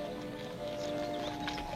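Horse hooves clip-clopping at a walk, faint and a little distant, with a steady tonal hum running beneath the hoofbeats.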